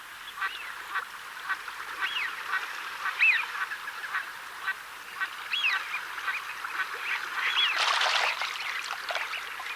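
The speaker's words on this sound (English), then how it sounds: "Busy shoveler ducks trawl for food with their specially designed bills." Shoveler ducks and other waterfowl at the Slimbridge wetland reserve calling in a busy chorus of quacks and honks, moderately distant, with a splashy burst near the end; no talk.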